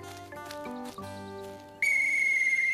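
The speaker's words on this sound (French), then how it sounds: "C'est un sifflet." A shrill, steady toy whistle blows continuously and loudly, coming in after a stretch of soft background music and holding to the end.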